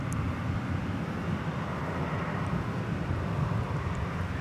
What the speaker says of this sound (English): It was a Bombardier Global Express XRS.